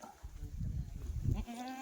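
Kathiawadi goats bleat close by, with a few wavering calls merging into a steady low-pitched cry that fades out near the end, with no talking in between.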